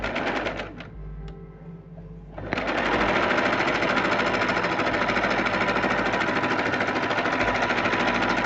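A sewing machine stitches a kurti seam: after a short quieter, uneven start it runs steadily and loudly at full speed in a continuous rapid whir with no voices.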